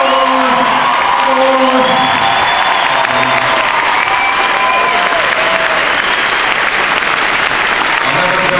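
A hair show audience breaks into loud, sustained applause with cheering and whoops, a dense roar of clapping and shouting voices filling the room, with some whistles rising above it.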